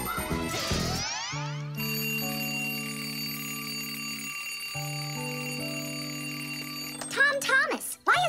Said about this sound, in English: why is your alarm clock ringing in the middle of the night